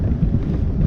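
Wind gusts across open water around a kayak, a steady low rushing roar with microphone buffeting, continuous and fairly loud with no voices.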